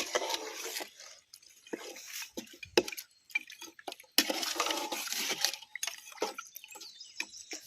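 Water splashes and gurgles into a pot of curry in uneven bursts, with drips and faint clinks of cookware, close and moderately quiet.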